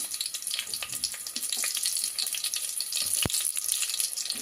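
Onion dropping into hot peanut oil in a pan, frying with a steady close crackle and sizzle and one sharp knock partway through; no voices.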